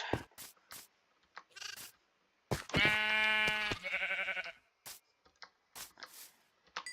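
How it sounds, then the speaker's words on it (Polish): A sheep bleats loudly in the Minecraft video game, one long wavering bleat amid short clicks and game sounds, with a second fainter bleat after it. "Jest owca, dobrze."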